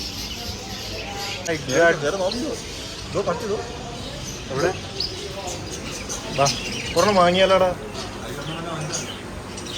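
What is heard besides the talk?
birds chirping at Sharjah animal market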